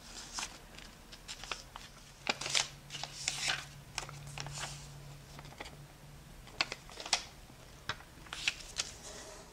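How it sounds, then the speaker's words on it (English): Sheets of origami paper rustle and crinkle while being folded and creased into a nail polish bottle shape, a quiet close-up series of soft taps and crisp scrapes with no talking. "Now we are going to bring this edge over to match the center."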